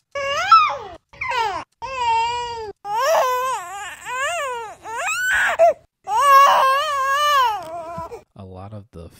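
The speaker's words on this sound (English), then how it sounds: "A lot of the effects seem to be all the times he cries." A baby cries close up in a run of rising and falling wails and sobbing bursts separated by short gasping pauses, loud and unaccompanied, ending in a few softer whimpers.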